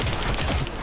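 A fast burst of automatic gunfire in Cyberpunk 2077, rapid loud shots packed into under a second, heard close with no voices over it.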